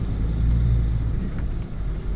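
A cargo truck drives along a road, heard from inside the cab as a steady, loud low engine and road rumble that holds constant throughout.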